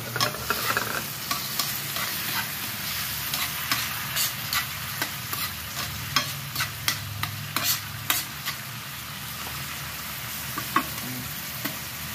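Kangkong and tofu sizzle steadily in a pan with soy sauce while a utensil stirs and scrapes, giving intermittent sharp clinks over the continuous frying hiss.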